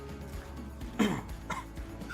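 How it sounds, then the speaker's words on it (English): A single short cough cuts through a steady low background hum, with a softer throaty sound following shortly after. "If you cough, it's a good sign."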